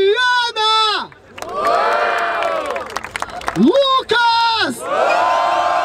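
Audience at a Brazilian freestyle rap battle in Barueri cheers and whoops loudly, with rising shouted calls and a sustained roar of crowd noise swelling between bursts.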